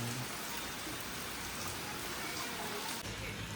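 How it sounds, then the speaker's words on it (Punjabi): Heavy rain pours steadily during flooding in Punjab, a dense, even hiss that holds at the same level the whole time with no voices over it. "ਉਨਾ ਹੀ ਜ਼ਿਆਦਾ ਮੀਂਹ ਪੈ ਰਿਹਾਗਾ"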